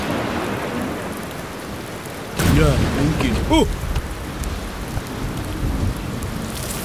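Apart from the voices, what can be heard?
rain in a cartoon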